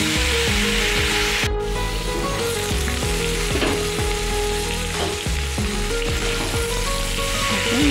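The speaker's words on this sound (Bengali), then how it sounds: "ফুলকপিটা অনেকটা ভাজা হয়ে গেছে, তার মধ্যে কিন্তু আমি আলুটাও দিয়ে দিলাম।" Cauliflower and potato pieces fry loudly in a pan, with a dense, constant sizzle cut by repeated scraping strokes of a spatula stirring against the pan.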